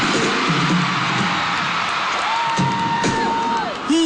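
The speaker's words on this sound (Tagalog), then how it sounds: "hiyawan na ang buong arena" A packed arena crowd at a singer's first concert in the Philippines, part of a world tour, screams and cheers in a steady, dense roar, with a few whoops rising above it.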